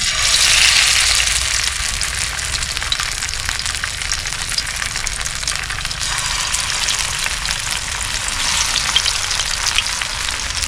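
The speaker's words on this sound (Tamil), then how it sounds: "இப்போ இந்த மீனை அப்படியே எடுத்து இந்த ஃப்ரையோடு போட்டு" Mackerel sizzles loudly and steadily in hot oil on a flat tawa, with a dense, crackling frying noise that runs throughout without talk.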